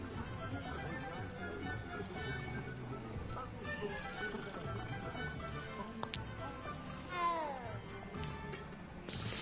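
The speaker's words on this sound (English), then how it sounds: "Hello, kitty." A cat in Hogwarts Legacy gives a few short, rising meows near the end, set against busy game ambience and soft footstep-like clatter.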